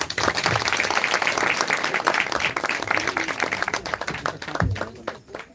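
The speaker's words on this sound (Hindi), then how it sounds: "चलो ताली बजा।" Steady, fairly loud applause from an audience at a live Hindi religious story-singing event, continuous throughout with a few sharp thumps and faint voices underneath.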